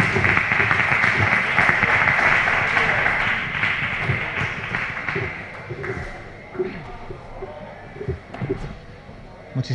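Audience applause at a conference day on marsh mares, loud clapping that fades after a few seconds into scattered claps, with a voice talking over it.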